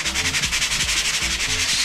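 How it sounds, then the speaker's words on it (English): A sanding sponge is rubbed over dried drywall mud in quick, even back-and-forth strokes, a close, rhythmic scratchy rasp with no talking. "I like using sanding sponges like this"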